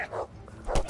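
A dog in the medieval Bohemia video game Kingdom Come: Deliverance gives two short, sharp barks about half a second apart, close and fairly loud.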